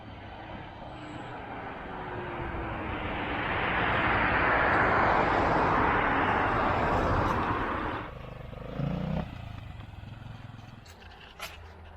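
A friend's motorcycle approaches along an autumn road in the Kyiv region countryside. The engine drone builds to a loud peak mid-clip, then drops away and idles near the end.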